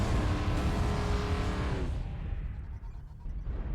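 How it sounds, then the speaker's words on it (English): A video game race car engine roars at high revs, then fades as it drops away, with a rumbling motor continuing low in the background. "I think that race car noise will fit well."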